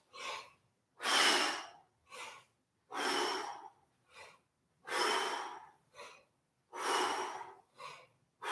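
Rhythmic breathing exercise during breath squats, with strong, forceful exhales alternating with shorter, quicker breaths in a steady pattern. Each breath is loud and close, with no talking.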